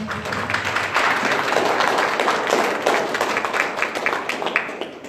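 Conference audience applauding, a dense spread of many hands clapping at once, steady and sustained for several seconds with no voices over it.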